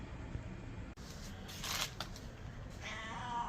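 A house cat gives a short meow near the end, faint beneath steady background hiss and rustling, with no talk.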